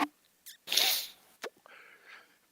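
A few short, sharp nasal sniffs and snorts from a person with COVID, close up, separated by brief pauses.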